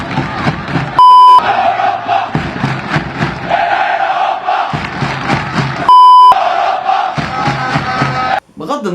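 Football supporters chant in a packed Egyptian stadium during a league match, a loud, continuous crowd roar with rhythmic surges, broken twice by short electronic beeps.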